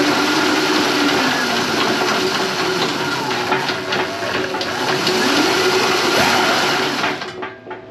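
Electric motor whine from a Razor Dirt Quad 500 fitted with snow tracks and a 72V Kunray 5000W kit at about quarter throttle, a steady loud drone with shifting pitch that fades near the end.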